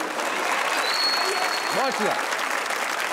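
Studio audience at a Pakistani comedy talk show applauds in a dense, steady wash of clapping that lasts the whole few seconds; someone speaks briefly over the applause.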